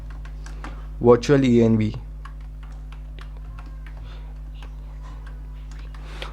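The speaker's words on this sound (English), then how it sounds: "So first we will type pip install" A pip install command typed on a computer keyboard: a run of light, irregular key clicks close by, with a brief spoken phrase near the start over a low steady hum.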